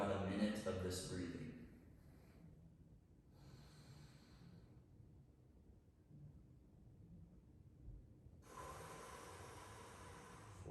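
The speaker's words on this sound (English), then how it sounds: "Exhaling through the mouth with a little bit of audible pressure." Slow box breathing exercise with audible breaths: a pressured exhale through the mouth at the start, a brief breath a few seconds later, then a longer breath near the end, separated by quiet pauses, close to the microphone.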